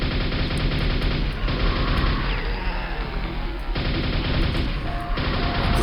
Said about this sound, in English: Then you're given some 9-inch nails as you come around this corner, which will cause you to open up your nail gun.